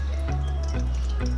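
Water poured into a pot for boiling chicken makes a loud, close filling sound whose low resonant tone steps upward as the vessel fills.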